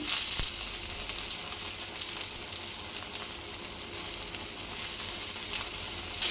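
Chana dal frying in hot oil gives a steady, bright sizzle that holds evenly from start to finish, close and fairly loud, with no talking.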